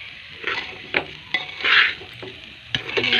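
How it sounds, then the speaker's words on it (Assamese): Rice grains stir-fried in a pan, a loud crackling sizzle broken by repeated scraping strokes of the spoon against the pan in an uneven rhythm, no talking. "এইদৰে ভাজি থাকিব লাগিব। অলপ ৰঙচুৱা হৈ পৰিব চাউলকেইটা"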